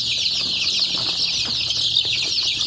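Chickens in an indoor poultry house cluck and murmur continuously, a dense flock chorus with a steady bright background hum and occasional louder calls and wing rustles throughout.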